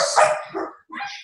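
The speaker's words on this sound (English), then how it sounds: "That's my dog running through the house" A dog barks a few quick times while running through a house, close and fairly loud, with short yips and a brief pause between bursts.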